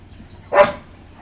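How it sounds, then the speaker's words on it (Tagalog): A single sharp dog bark, fairly close, standing alone against a quiet background. "Yung aso tumatahol."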